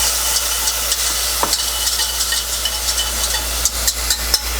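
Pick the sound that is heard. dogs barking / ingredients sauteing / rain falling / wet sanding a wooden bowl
ingredients sauteing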